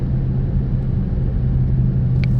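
Steady low rumble of a car fitted with a Borla exhaust pulling hard through the lower gears, a continuous close drone with no voices.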